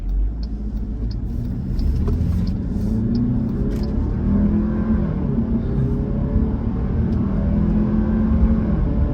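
A Jeep Grand Cherokee 4xe heard from inside the cabin, its engine a steady low rumble that swells as the SUV accelerates hard, continuous and fairly loud throughout with no talking.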